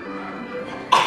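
A young boy gives a single short, sharp cough right at the end of a quiet moment outdoors in snowy weather, close and fairly loud.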